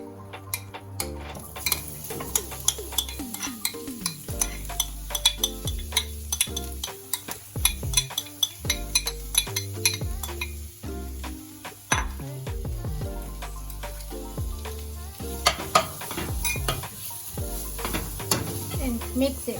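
Mashed potato is stirred into frying spices in a pan, giving a run of close scraping, clinking and tapping strokes over a low sizzle, with irregular spoon knocks against the pan throughout.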